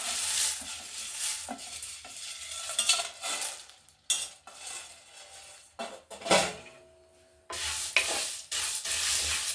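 Sprouted grains roast in a pan over a low flame, a spoon scraping and stirring in uneven bursts with short pauses and a soft sizzle beneath.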